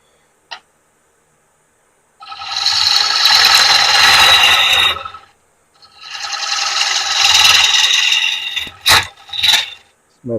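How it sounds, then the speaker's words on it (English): A 3/8 hurricane bowl gouge roughs out a big cedar bowl on a lathe: two loud, sustained rasping cuts of about three seconds each, then a few short sharp scrapes. "It's my 3/8 hurricane bowl gouge"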